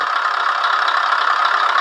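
Engine sound from a Beier MSM-1 sound and light module for model vehicles, a steady mid-pitched idling rumble with slight knocking texture, loud and continuous with no talk.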